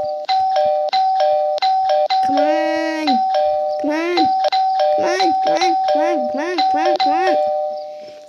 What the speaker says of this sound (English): Let me try and ring the doorbell.